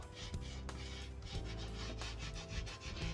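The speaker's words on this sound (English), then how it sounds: "And then come in with my fingers and just rub it in to the white spaces." Fingertips rub glitter into paper in a continuous, faint scratchy rustle with uneven strokes, close up and without talk.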